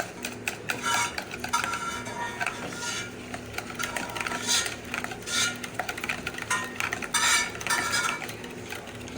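Melted butter stirred into a plain vanilla cake batter, with repeated bursts of spoon scraping and clinking against the bowl in an uneven rhythm, close and moderately loud.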